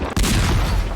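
Cannon fire striking characters in Darkest Dungeon 2, a sudden loud boom that rolls into a sustained rumbling blast, with no talking.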